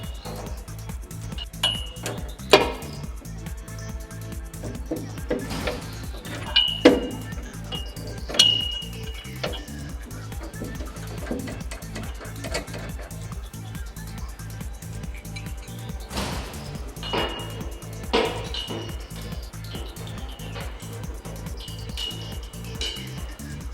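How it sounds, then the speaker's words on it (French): An open-end 24 mm wrench loosens nuts on a Twin Busch TW 250 / TW 260 two-post car lift, with scattered metallic clinks and taps over a steady low mechanical hum, close and moderately loud. "Pour dévisser les écrous, utilisez une clé plate de 24."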